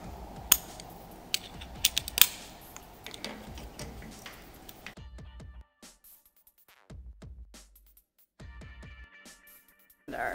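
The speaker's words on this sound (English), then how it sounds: "we'll remove these nuts here. So we're going to take our size 13 socket with a nice long extension here." A 13 mm socket on a long extension loosens nuts holding a master cylinder on a Trojan trailer, giving close, irregular clicking and ratcheting ticks in short bursts, with quiet pauses between.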